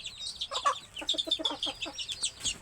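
Domestic desi hens cluck in a short burst of close, choppy calls, several birds overlapping in quick irregular notes.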